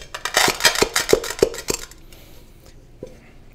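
A pot is pressed and knocked down onto coffee beans to crush them by hand, giving about seven sharp, loud metallic clanks with a gritty crunch in a steady rhythm, then a quiet pause and one last knock.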